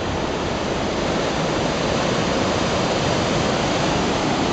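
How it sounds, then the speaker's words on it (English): Fast-flowing Yosemite Creek rushes past nearby above Upper Yosemite Falls, a loud, unbroken churn of water holding steady from start to finish, with no speech over it. "be able to see how fast the Yosemite Creek is moving."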